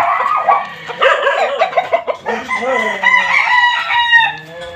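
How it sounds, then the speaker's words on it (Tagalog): A rooster crows loudly and close by, a long strained call with a drawn-out ending, alone without talk. "Yung tilawak ng manok pag pang morning ka."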